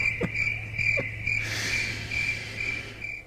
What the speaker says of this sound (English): I left the window open a little bit there with the crickets